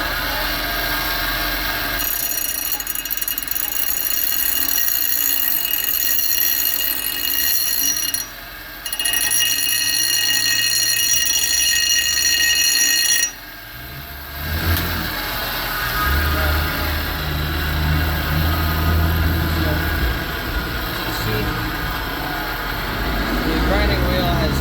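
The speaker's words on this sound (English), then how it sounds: "The grinding wheel has taken off all the burr material and just left a fresh new edge." A bench grinding wheel grinds the burr off a steel axe head edge, a steady loud whirring with tool contact noise, pausing briefly midway and then dropping to a lower rumble.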